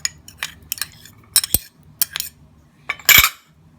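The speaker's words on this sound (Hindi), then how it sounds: "इन सब चीज़ों को हम मिक्स करेंगे" Rice flour and yogurt are stirred together in an empty bowl with a spoon, giving a series of short, close clinks and scrapes in an uneven rhythm, with no speech.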